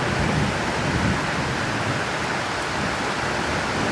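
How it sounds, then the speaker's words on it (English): A thunderstorm with heavy rain over a backyard in Smithtown, heard as a constant loud wash of downpour close by; no distinct thunder clap stands out and no one speaks. "Now this is what I call a thunderstorm."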